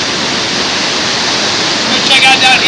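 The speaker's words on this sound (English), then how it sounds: "I don't know if you can hear this, the waterfall's loud" A loud waterfall in El Yunque National Forest roars as a dense, continuous rush of falling water, close and steady throughout.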